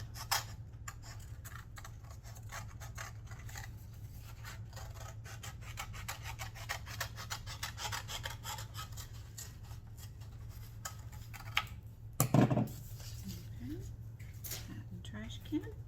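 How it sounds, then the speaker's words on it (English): Scissors snip steadily through paper, cutting out a paper hat shape along an outer line for a hat craft, a continuous dry rasping with a louder burst near the end and a low hum beneath. "Be sure to cut out on this outer line and don't cut the tab off"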